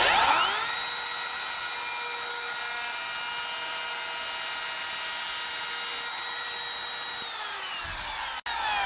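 A router fitted with a profile bit cuts a line in a scrap piece of wood, a loud steady high-pitched whine that holds evenly, then spins down and stops abruptly near the end.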